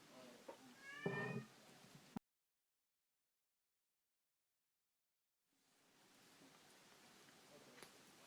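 An indoor house cat lets out a loud, drawn-out meow at close range, followed by a stretch of dead silence and then faint room noise.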